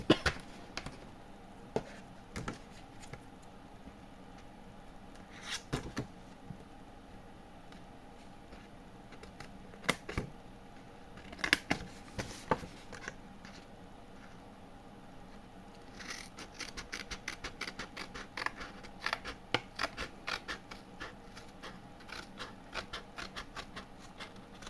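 Scissors cut scrapbook paper for a Sunset Beach Mintay album in a quiet room, making soft, scattered snips and clicks, sometimes alone and sometimes in quick bursts.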